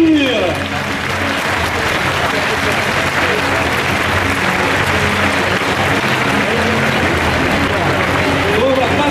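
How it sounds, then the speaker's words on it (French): Sustained audience applause at the Coupe de France de robotique 2015 final, a loud, steady wash of clapping and crowd noise that holds for the whole stretch with voices mixed in. "c'est terminé, on peut les applaudir"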